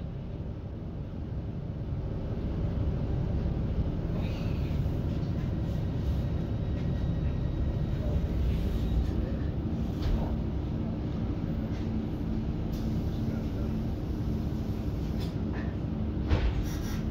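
Northern 156422, a diesel multiple unit, runs on the line from Manchester Victoria toward Wigan Wallgate, giving a steady low rumble and rolling noise heard from inside the carriage with no break.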